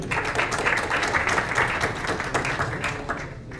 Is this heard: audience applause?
yes